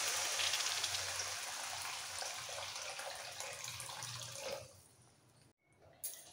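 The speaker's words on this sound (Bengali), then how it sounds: "এবার দিয়ে দিচ্ছি জল, কষানো হয়ে গেলে জল দিয়ে দিচ্ছি।" Water poured into a pan of fish curry with potatoes and pointed gourd: a steady, splashing pour runs for several seconds, then tapers off and stops.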